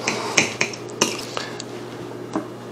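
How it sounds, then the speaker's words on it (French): Knife and utensils clinking on a plate while a keto stuffed pepper filled with cheese and Italian sausage is cut in half, a handful of sharp metallic taps and scrapes, close and without talk. "Là, je vais le couper en deux pour que vous voyez l'intérieur."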